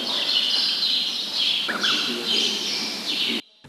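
Many birds chirp steadily on the bird island at the Kyiv zoo, a dense high twittering chorus that fills the scene, with one lower call rising briefly midway before the sound cuts off abruptly.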